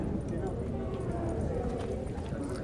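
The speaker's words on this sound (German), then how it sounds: "Man meint, der Raum wäre voller Pferde" Horse hooves clip-clop steadily in The Witcher 3, a dense, continuous patter of many hoofbeats in a large stable-like room, mixed with a murmur of voices.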